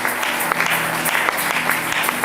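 Church congregation applauding during a Friday worship service, a steady wash of clapping from many hands, moderately near and continuous throughout.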